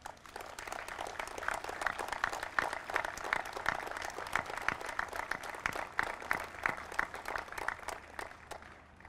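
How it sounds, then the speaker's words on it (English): A crowd gathered outdoors for the unveiling of a Coast Guard sculpture in Traverse City, Michigan, claps for several seconds, the scattered hand claps sounding faint and distant. "Please give them a round of applause"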